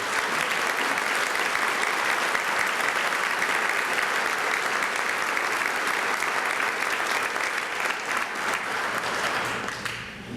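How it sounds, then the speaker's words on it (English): A crowd applauds at a chamber of commerce campaign kickoff event, steady full clapping sustained for about ten seconds before starting to thin out at the very end. "if you guys would give him a round of applause"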